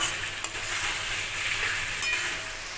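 Coriander, cumin and chili powder spice masala fries for a rohu fish curry, a steady faint sizzle with soft stirring, continuous and without speech.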